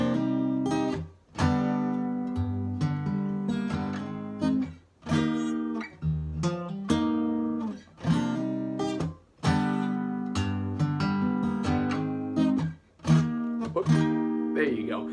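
Distorted electric guitar playing a hammer-on riff, repeating in short punchy phrases with brief gaps, fast notes within each phrase, loud and close, no talking.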